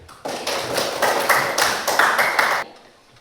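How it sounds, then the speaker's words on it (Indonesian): A class claps hands for a classmate in a school lesson, a brisk burst of many overlapping claps that starts abruptly, holds for about two and a half seconds, then stops, leaving near silence. "Kita tepuk tangan untuk Jakri."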